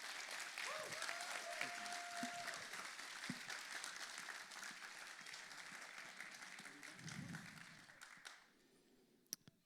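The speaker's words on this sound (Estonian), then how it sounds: "Nii et tervitame teda sooja aplausiga ja võtame ta vastu." An audience applauds to welcome a speaker at a summer gathering, giving dense, steady clapping for about eight seconds before it thins out and stops, leaving a faint room tail.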